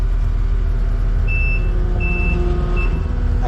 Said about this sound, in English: I gotta get rid of that beeper.